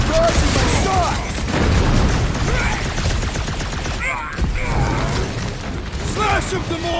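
Continuous gunfire from Guardians of the Galaxy video game combat, dense rapid shots layered with mechanical clatter and impacts throughout, with character voices talking over the action.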